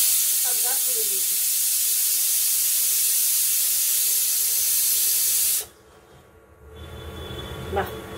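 Chow mein cooking in a pan on a home stove: a loud steady hiss and sizzle that cuts off abruptly, followed by softer rumbling kitchen noise, with a voice speaking briefly near the start.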